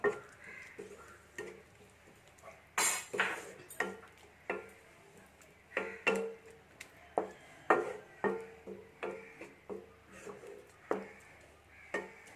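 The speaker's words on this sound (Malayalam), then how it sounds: "2 പച്ചമുളക് നന്നായിട്ടൊന്ന് ഇളക്കുക" A spoon stirring green chillies into a Dhaba-style chicken curry in a pan, heard as a series of rhythmic metallic scrapes and clinks over a faint background, moderately close and quiet.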